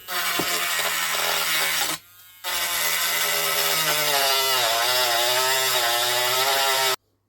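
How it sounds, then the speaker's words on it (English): A small Dremel rotary tool cuts through a 3D-printed plastic jet boat part, its loud, steady buzzing whine running continuously with one short pause near the start before resuming and then stopping abruptly. "I've got this little Dremel thing."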